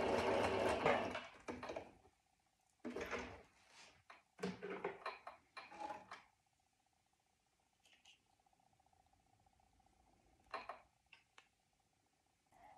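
Sewing machine stitching a backstitch at the edge of an opening, a few short stop-and-start bursts of whirring followed by a steady faint hum and small clicks.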